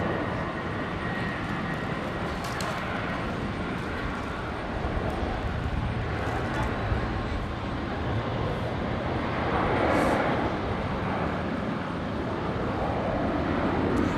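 A Qantas airliner rolls for takeoff from Brisbane bound for Melbourne, a steady broadband jet engine roar held at moderate distance for the whole stretch, swelling a little near the end, with no voices.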